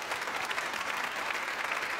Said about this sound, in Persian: به افتخارشون تشویقشون بکنیم